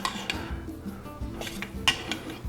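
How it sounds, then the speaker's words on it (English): A spoon stirring chopped fresh cilantro through Dominican-style Instant Pot rice with salami, giving soft scraping and light clinks against the pot in an uneven rhythm, close and moderately quiet. "I like to stir that up."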